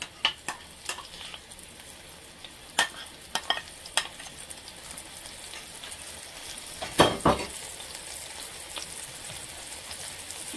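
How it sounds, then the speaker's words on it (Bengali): Spice paste with garlic and ginger paste sautés in a pan with a continuous close sizzle, broken by sharp clicks and scrapes of stirring and a louder clattering burst midway. "মশলাটা ভালো করে কষাবো।"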